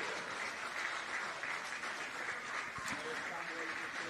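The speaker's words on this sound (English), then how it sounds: "A round of applause for the refereeing team here." Faint, distant applause from spectators at an under-10s youth football plate final ripples on steadily while a voice speaks over it.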